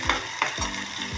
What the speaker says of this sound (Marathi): आता आपण कांदे मिरचीचे तेलात टाकून घेऊ. तेल तापलेलं आहे.